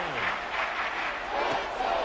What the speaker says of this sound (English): Crowd getting in a bit already.